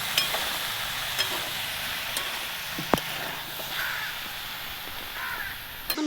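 Chopped tomatoes and vegetables fry in a pan for a drumstick-flower curry, giving a low, steady sizzle with occasional scraping stirs and clicks, fairly quiet and close, with no talking.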